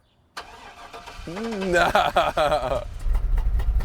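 A Chevrolet C10 truck engine cranks briefly, catches and settles into a rough, uneven idle nearby, with a short spoken word over the start.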